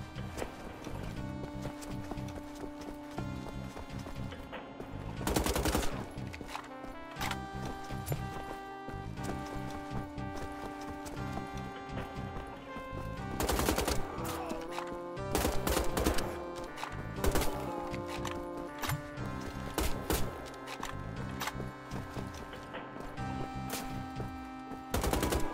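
Weapons fire in Wolfenstein: The Old Blood as rapid bursts and single shots crack over a steady din of game sound. The bursts come in irregular clusters and grow densest toward the end, with no talking.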